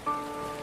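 Rain falls steadily in an outdoor drama scene, a soft, even hiss with a brief faint tone near the start and no voices.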